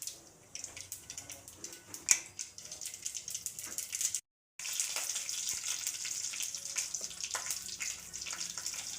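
Tempering spices crackle and sizzle in hot oil in a pan for a ridge gourd dal, a busy, close spattering hiss that drops out for a moment and then resumes just as strongly.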